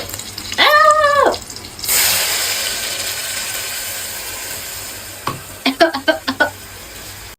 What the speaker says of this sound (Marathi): आता थोडंसं याच्यात पाणी टाकलं, सिम्पली मी तडका